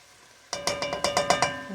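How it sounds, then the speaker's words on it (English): A whisk stirs flour into oil in a pan to make a roux, setting off a quick, even run of about eight bright metallic clicks after a short quiet start. "we are going to go ahead and whisk this until it is golden brown"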